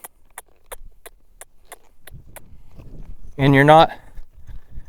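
A horse walks out around a big arena, its hoofbeats landing as a steady, evenly spaced series of light clicks before a voice speaks briefly over them.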